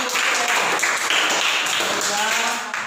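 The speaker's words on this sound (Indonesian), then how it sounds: "Oke, tepuk tangan." A school class claps together in a classroom, a short burst of many hands over about three seconds with voices mixed in.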